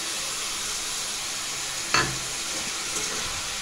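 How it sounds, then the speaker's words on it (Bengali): Cumin and ginger paste frying with cabbage in a pan, a steady loud sizzle with one sharp spoon scrape that briefly flares the hiss before it settles. "এবার এর মধ্যে আমি দিয়ে দেবো জিরে বাটা আর আদা বাটা মতো"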